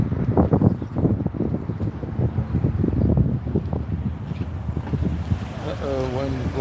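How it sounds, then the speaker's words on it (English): Wind gusting across an outdoor lot, a rough blustery rush with strong low buffeting against the microphone, steady and close, with a faint tonal whine near the end. "wind's blowing the wrong way"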